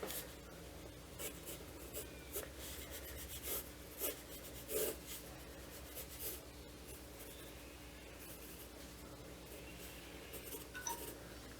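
Quick, scratchy pencil strokes on paper during a ten-second sketch of an eastern yellow robin, a steady close rasp with brief louder flicks and no talking.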